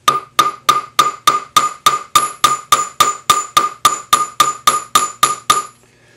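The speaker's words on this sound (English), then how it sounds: "This is a French jeweler's hammer, and it's slightly rounded. And we're just going to hammer" A French jeweler's hammer with a slightly rounded face strikes a metal ring shank in a steady run of about eighteen evenly spaced, sharp ringing metallic taps, loud and close, then stops.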